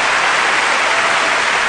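Dense, continuous applause from a crowd of about 5,500 people, a steady wash of clapping with no individual claps standing out.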